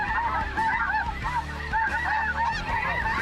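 A flock of geese honks repeatedly and close by during a goose hunt, a dense overlapping chorus of calls with no voices over it.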